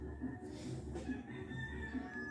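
Chickens cluck and murmur faintly amid a low steady background drone, with a few short clucks scattered across the moment and no clear talking over them.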